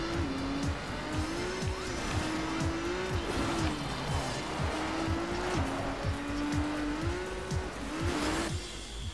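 Racing car engine in the video game Trackmania Turbo on PS4, a steady rising and falling engine whine with gear shifts and tire squeal while drifting, loud and continuous throughout.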